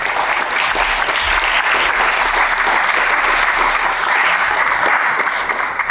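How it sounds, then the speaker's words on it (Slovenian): Loud, dense audience applause at a public panel discussion, a continuous sustained roar of many hands clapping at an even level from start to finish. "En aplavz."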